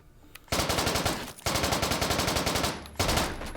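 Rapid automatic gunfire from a gun in a Black Ops video game, loud and close, in three sustained bursts separated by brief pauses.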